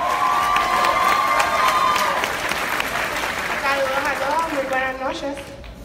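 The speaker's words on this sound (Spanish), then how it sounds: "Con fuerte aplauso a Ruth Custodio" Audience applause and cheering fill a youth-of-the-year ceremony for Boys & Girls Clubs of Puerto Rico, loud and steady with voices shouting through the clapping before it thins toward the end.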